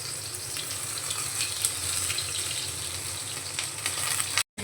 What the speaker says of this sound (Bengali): গ্যাসের ফ্লেমটা এখন মিডিয়ামে রেখে ঢ্যাঁড়সগুলো ভেজে নেব।